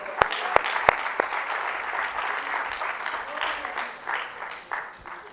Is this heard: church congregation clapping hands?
yes